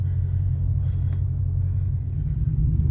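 A deep, steady engine rumble from a Dodge Scat Pack muscle car with a cold air intake, close by, low and throaty, holding a constant idle without revving.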